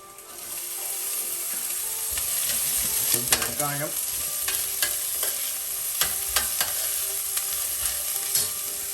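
Mutton chops and onion sautéing in a pan for a restaurant-style Tamil recipe: a steady close sizzle and frying hiss, broken by scraping clicks and taps of a spoon stirring against the pan.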